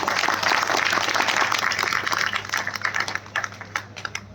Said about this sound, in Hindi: मैं इनके लिए सब लोगों से निवेदन करता हूं कि तालियों के साथ